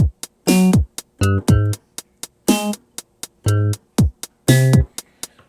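Piano plays a section of a song in short, separated phrases: clear struck notes and chords with quick decays and gaps between them, close and alone.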